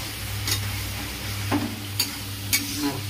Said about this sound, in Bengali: এবার বেশ করে নাড়বো